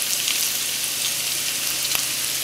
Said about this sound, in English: we are going to add in our onions, and we're going to saute these up a little bit.